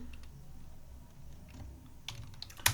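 Keyboard typing while entering a party name in TallyPrime accounting software, a few faint scattered key taps over low room hum, ending in a sharper click near the end, with no voices.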